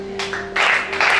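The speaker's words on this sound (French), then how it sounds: "Acclamez ça." A church congregation at a Gabonese worship service breaks into applause in two bursts, a dense wash of clapping swelling up against a steady hum in the room.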